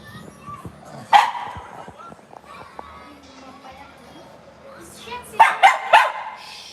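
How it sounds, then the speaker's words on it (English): Dogs bark outdoors, one sharp bark early and then a quick burst of three or four barks near the end, with talk and background noise running throughout. "Ay, freaking dogs drive me crazy."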